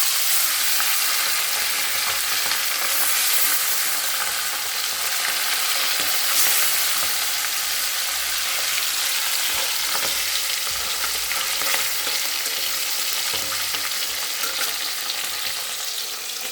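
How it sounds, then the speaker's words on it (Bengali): Golsa fish sizzle and crackle steadily in hot oil in a home kitchen pan, a loud, continuous frying hiss with occasional pops and faint stirring clinks, no talking. "তো মাছগুলো আগে ভেজে নিই, ভেজে তারপর মশলাটা করে নিই।"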